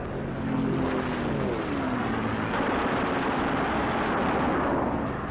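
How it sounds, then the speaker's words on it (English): Eight wing-mounted machine guns on a P-47 Thunderbolt fighter fire in a sustained, dense roar, loud and continuous, blended with the heavy drone of the aircraft's engine. "With the touch of the finger on the stick, a camera and 8 machine guns are put into action"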